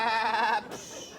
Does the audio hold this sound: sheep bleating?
yes